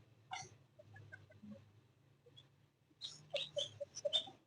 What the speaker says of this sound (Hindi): ये रही हमारी मुर्गी।